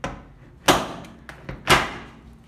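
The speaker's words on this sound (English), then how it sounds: "And this is the sound a Ford door makes." A Ford truck door shuts twice with solid thumps, spaced about a second apart and fairly close, with a quieter knock between them and no talking.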